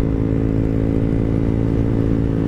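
A Honda Click scooter fitted with a Rusi Rapid exhaust runs loud and close with a steady, droning engine note held throughout, no voice heard.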